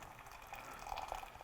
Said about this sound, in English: calls for 2 cups of boiling water to be added